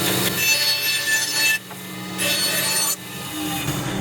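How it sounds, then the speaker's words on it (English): A bandsaw cuts through a piece of wood in a workshop, a steady rasping whine that breaks off briefly twice as the cut is repositioned, close and loud with no talk. "So I'm going to just roughly round this off on this bandsaw"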